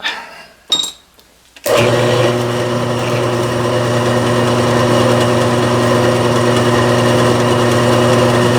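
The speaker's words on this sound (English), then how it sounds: "Bit of slippage on the drill here." A few brief knocks, then a power drill starts abruptly and bores through metal, running continuously with a loud, steady grinding whir.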